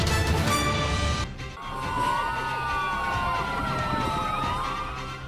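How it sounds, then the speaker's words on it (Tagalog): Law enforcement vehicles sound their sirens during a deployment of personnel in the Philippines, several wailing and yelping tones overlapping over a busy crowd and street noise, fairly loud and sustained throughout. "Sa pagtunog ng sirena ng law enforcement vehicles"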